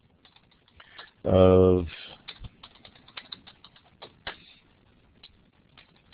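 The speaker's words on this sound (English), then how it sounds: "I could type in under the description" Light keyboard typing enters a description in Google Earth's properties window: scattered soft keystrokes follow a short spoken sound.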